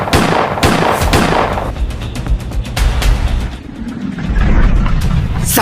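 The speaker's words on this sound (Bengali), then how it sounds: "গুলাগুলির আওয়াজ।" Gunfire from the mobile game Free Fire played loud on a phone, with dense bursts of shots and explosions in a continuous barrage that fills the whole stretch.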